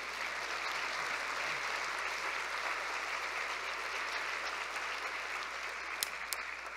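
A convocation audience at a university gathering applauds in a steady, even wash of clapping that continues unbroken, faint and distant with a couple of sharper claps near the end.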